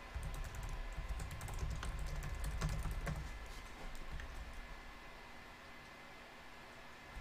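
Quick clicking keystrokes on a computer keyboard, with close, irregular taps clustered over the first few seconds and then fading out into a low background hum.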